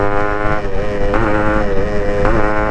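Motorbike fitted with a chamber exhaust and body kit, RX-series style, accelerating hard with a loud, steady engine roar that rises in pitch in repeated pulls, close to the microphone.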